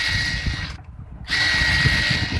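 Sewing machine stitching through the elastic waistband of a skirt palazzo, a steady close motor whir with a brief pause midway before it resumes.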